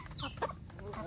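Village chickens in a coop queuing to lay eggs, giving a brief burst of clucks and calls, close and fairly faint, lasting about a second.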